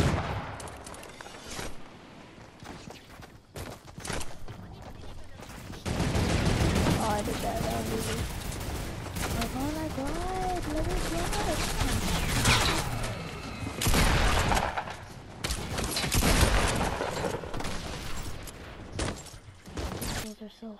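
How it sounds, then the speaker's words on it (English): Video game gunfire rings out in rapid bursts and scattered shots across a busy firefight, loud and dense with louder stretches in the middle and near the end, and someone talks over it. "Pistol eliminations, I'm doing pistol eliminations."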